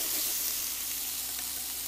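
Onion frying in a pan in a farm kitchen, a continuous bright sizzle and crackle at moderate volume, close and unbroken, with no voices over it.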